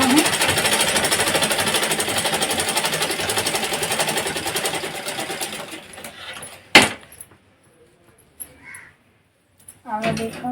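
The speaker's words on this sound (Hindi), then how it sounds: "अब सिलूँ ब्लाउज।" A domestic sewing machine stitches a blouse with a fast, steady mechanical rattle for about six seconds, then stops, leaving a sharp click and brief handling noises.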